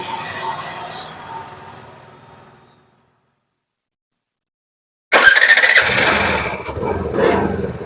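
Suzuki Access 125 scooter with an RPM fault running and revving, then cutting out to a few seconds of silence before it starts again with a loud, rough burst of engine noise.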